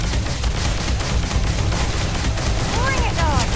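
Weapon fire in Starfield: rapid, continuous bursts of gunshots crackle steadily throughout, with faint whistling tones near the end.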